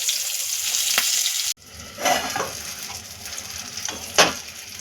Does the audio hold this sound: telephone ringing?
no